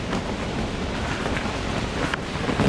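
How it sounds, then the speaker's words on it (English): Strong wind roars and buffets a microphone outdoors in a grassy field during a groundhog hunt, a continuous rough rumble with gusty surges and no talking. "It's really windy out today."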